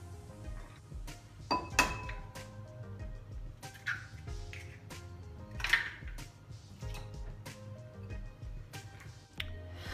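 Four eggs are cracked one at a time into a separate bowl while a yogurt cake is prepared, producing several sharp, close taps and clinks against the rim, spaced apart with quiet gaps and faint kitchen handling noise between them.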